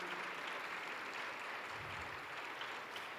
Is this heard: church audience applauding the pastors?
yes